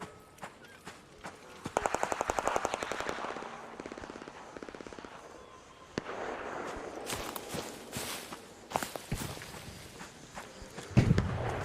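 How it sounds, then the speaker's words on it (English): Video game gunfire with a rapid burst of automatic shots, then scattered single shots and clicks, fairly faint and distant among footstep-like tapping. "Someone's shooting."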